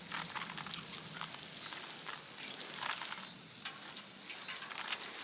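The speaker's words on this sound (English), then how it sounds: "Oh, drizzle water." Water drizzling in a kitchen where bread is being baked, a soft continuous hissing patter like rain on a surface, faint and steady with small crackling bursts.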